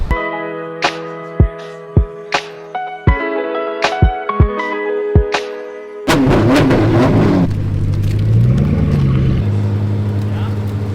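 A Mercedes 190 Evo 2 pulls up to Spanish Bay in Monterey. Sharp percussive bangs and tonal music come first, then a steady, loud engine and road roar takes over for the rest of the stretch.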